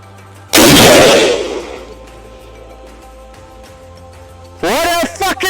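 A single loud hunting rifle shot on a South African free-range hunt, a sharp close blast with a decaying rumble, followed by quiet and then excited voices.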